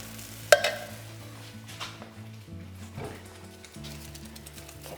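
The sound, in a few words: stirring tinned tomatoes into ox cheek stew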